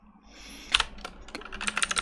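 Fingers type on a computer keyboard while writing code, a close run of quick, crisp key clicks that picks up into a rapid rhythmic burst, no one speaking.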